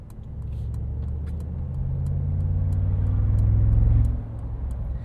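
A 2025 Mercedes-AMG G63 with its 577 hp biturbo V8 accelerates steadily, the engine note rising and swelling for several seconds before easing off, heard from inside the cabin with no talking.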